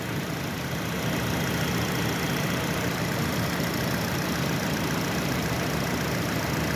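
A 2022 Hyundai Tucson engine idles steadily at close range, a constant even hum with a low throb and no talking.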